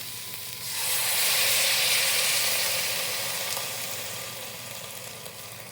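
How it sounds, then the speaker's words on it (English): Salted water poured into a hot pot for roasted red pepper lentil soup, a loud, broad hissing sizzle that swells quickly, then gradually fades as steam settles, with no talking. "I have right here 6 cups of salted water."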